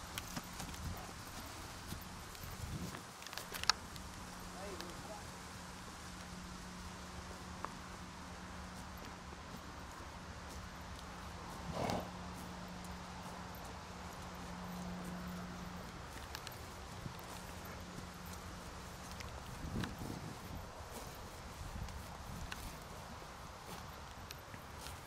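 Horses walk close by, their hooves clip-clopping in faint, irregular steps over a steady low background hum, with no talk.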